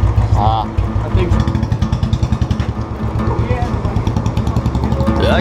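A Royal Enfield motorcycle engine thumps with a steady, rapid beat at close range while a person talks over it.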